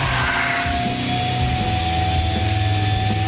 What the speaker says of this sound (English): First trial of the vacuum form.